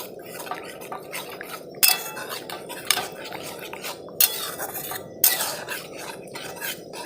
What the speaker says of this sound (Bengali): এবার আস্তে আস্তে মশলাটাকে কষিয়ে নেবো।